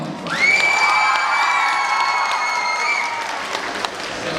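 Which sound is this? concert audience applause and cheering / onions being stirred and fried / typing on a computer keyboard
concert audience applause and cheering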